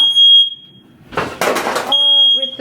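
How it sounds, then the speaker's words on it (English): A kitchen smoke alarm set off by the oven broiler sounds piercing high beeps at the start and again at the end, with a burst of nearby clattering and voices in between. "So, fire alarm likes to go off"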